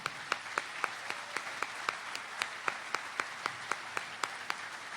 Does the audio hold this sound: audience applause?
yes